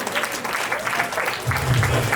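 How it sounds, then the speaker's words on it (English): A crowd at a 2019 graduation celebration claps for the Kambala family in steady, moderately loud applause. A low hum rises beneath the clapping toward the end. "Give a big round of applause to the Kambala family."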